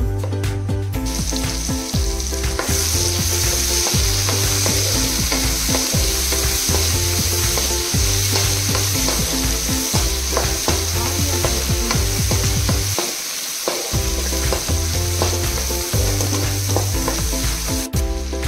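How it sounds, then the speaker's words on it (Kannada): Tomatoes frying in a pan for masala rice, a steady loud sizzle running throughout with stirring scrapes and a prominent musical background over it. "ಇದನ್ನು ಇವಾಗ ಫ್ರೈ ಮಾಡಿಕೊಂಡ್ರೆ ಆಯಿತು. ಸ್ವಲ್ಪ ಇವಾಗ ಫ್ರೈ ಆಗಬೇಕು."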